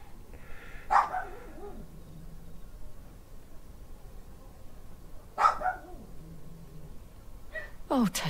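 Dogs bark in a few sharp, separate bursts, each followed by a short yelp, sounding fairly close in a room behind the muted audio of a Final Fantasy 16 game session.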